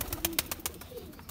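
Pigeons at a loft in Jammu and Kashmir near the border give soft cooing calls with a few short fluttering bursts, close and fairly quiet, with no voices.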